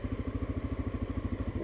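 A 1989 Honda NX650 single-cylinder motorcycle rides around town, its engine thumping in a steady, even pulse close to the microphone, with no talk.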